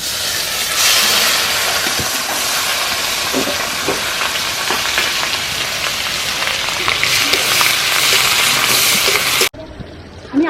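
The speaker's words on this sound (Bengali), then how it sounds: "এবার বাটা পেঁয়াজটা আমি তেলের মধ্যে দিয়ে দেবো।" Ground onion paste sizzles and crackles loudly in hot oil in a kadai, a steady dense frying hiss with occasional stirring scrapes, for a Bengali prawn malai curry, cutting off abruptly near the end.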